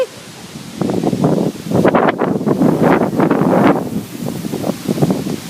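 Strong wind gusts buffet the microphone outdoors at a wedding, a loud roaring rumble that swells and falls in waves, with brief voices faintly under it.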